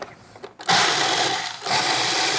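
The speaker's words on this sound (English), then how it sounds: "When you're grinding almonds or any kind of nuts, make sure that your blade of your food processor is sharp." A food processor grinds almonds, its blade whirring loud and steady after a brief quiet start, with a short dip in the middle before the grinding roars back up.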